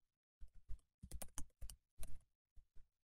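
Keys tapped on a computer keyboard while a password is entered, a quick burst of about a dozen clicks in uneven clusters, close and clear in an otherwise quiet room.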